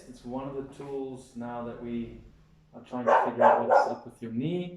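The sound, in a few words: dog barking in the background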